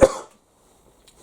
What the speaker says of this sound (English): it's my cough anyway